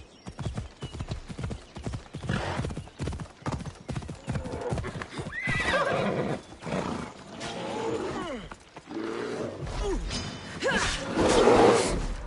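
A horse in a video game neighs and whinnies while its hooves clip-clop in a fast, steady rhythm, with loud roaring creature sounds mixed into the busy game audio.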